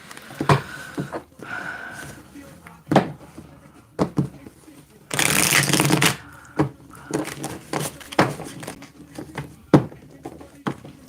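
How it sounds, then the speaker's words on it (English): Tarot cards being shuffled in bursts of riffling and soft slaps, close and crisp, with a longer loud riffle midway and a voice talking between the shuffles. "I just love shuffling, right? I really do. I could just sit and shuffle almost all day."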